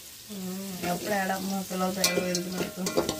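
Spices for tempering sizzle and pop in hot oil in a pan, a continuous close frying hiss with stirring scrapes and sharp crackles, fairly faint and steady, with a voice-like tone running underneath.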